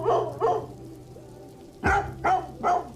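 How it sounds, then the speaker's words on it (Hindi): A dog named Jaan barks loudly in a Hindi horror audio drama, two close barks followed by three more after a short pause, each sharp and near with a faint steady hum underneath. "उसका कुत्ता जान जोर जोर से भौंकने लगा"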